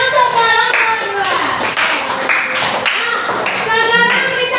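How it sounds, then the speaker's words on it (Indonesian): Classroom students applaud for group two after its presentation, a brisk, continuous burst of many hands clapping close by, with children's voices and chatter mixed in throughout. "Tepuk tangan untuk kelompok dua"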